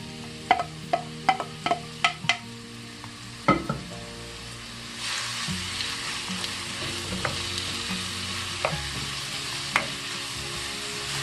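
Gourd strips stir-fried in sesame oil and cooking oil sizzle steadily, with sharp clacks of a utensil on the pan early on and a louder, continuous frying hiss after the gourd goes in.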